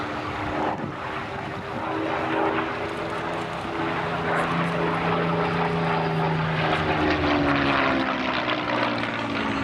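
A Spitfire Mk IX, MH434, with a Rolls-Royce Merlin 60-series engine, flies at an air festival. Its loud, continuous propeller-engine drone rises and shifts in pitch as it passes, and faint voices sound underneath.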